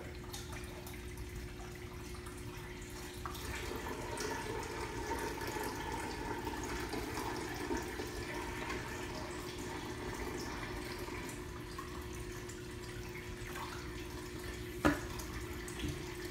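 Water runs into a JBJ Cubey 15G aquarium as it is filled, a steady, moderate trickling and gurgling that continues throughout, with one brief clink near the end.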